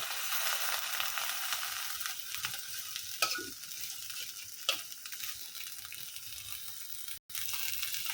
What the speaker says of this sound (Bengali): এখন শুটকিগুলো আমি ভালোভাবে টাইলা নিব এটা কিন্তু শুকনা ফলা একদম টাইলা নিব